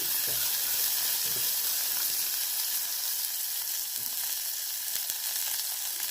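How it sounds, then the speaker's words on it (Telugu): Finely chopped onions with green chilies fry in oil in a pan, a steady continuous sizzle with faint stirring clicks, close and uninterrupted. "తర్వాత సన్నగా తరిగిన ఉల్లిపాయలు ఇవి వేసుకున్నానండి. ఇదిగో ఉల్లిపాయలు కొంచెం వేగాలి"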